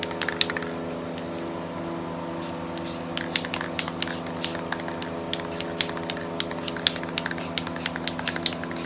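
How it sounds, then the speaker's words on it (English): An aerosol spray paint can hisses in repeated short bursts of varying length against a steady low electrical hum, close and fairly loud. "And I'm spray painting the side of it."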